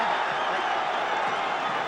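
Boxing arena crowd during a Manny Pacquiao vs. Hector Velasquez fight, a steady, dense roar of cheering that holds at one level from start to finish with no breaks.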